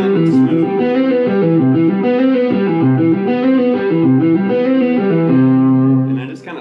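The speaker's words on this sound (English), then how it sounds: "you have that flowing legato kind of smooth sound like this" An electric guitar played through effects with distortion and chorus plays a smooth, even legato arpeggio, the notes flowing together in a steady repeating pattern, loud and close, fading at the end.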